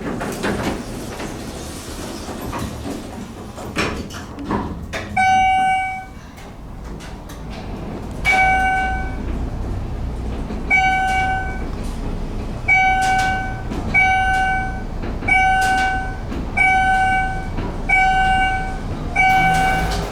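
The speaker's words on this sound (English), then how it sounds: "I hear a dual chime." A Schindler MT traction elevator in a Galveston hotel sounds its dual chime several times, clear two-tone dings repeating at roughly regular intervals over a steady mechanical hum and some clunks.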